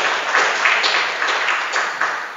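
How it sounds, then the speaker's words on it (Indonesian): An indoor audience gives a round of applause, a dense patter of clapping that stays steady for a couple of seconds and then fades slightly. "Tepuk tangan."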